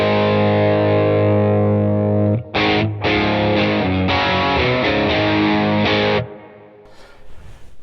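An electric guitar played through an AC Tone pedal with speaker simulation rings out in distorted sustained chords, then a run of choppy strummed chords, before ending in a brief quiet tail with faint handling noise.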